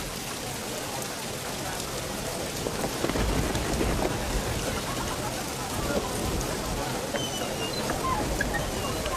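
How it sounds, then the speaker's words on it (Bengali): Steady heavy rain pours down in a dense, continuous hiss, with a low rumble of thunder swelling in partway through and lingering beneath the downpour. "এর জন্যই তো রহমতের বৃষ্টি হচ্ছে।"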